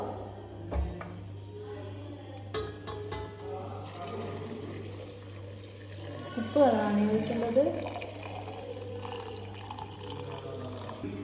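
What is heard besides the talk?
pouring salt water into a jar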